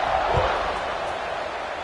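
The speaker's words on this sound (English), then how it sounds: "this crowd is buzzing after that last score" College football stadium crowd buzzing ahead of a kickoff, a broad roaring murmur of many voices with a brief thump near the start, steady throughout.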